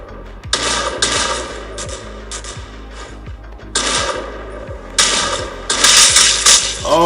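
Rapid gunfire in a first-person shooter game played on an ASUS ROG Twinview: loud repeated weapon reports and mechanical clicks over a dense game soundscape, with bursts intensifying toward the end.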